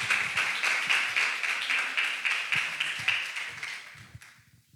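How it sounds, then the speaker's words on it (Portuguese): Congregation in a church clapping together to welcome a speaker at a theology week closing session, dense steady applause that tapers off and fades near the end, with no voices over it. "Vamos receber a Dalvana com a salva de palmas."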